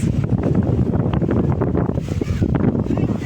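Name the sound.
strong wind at Dadar Chowpatty beach, Mumbai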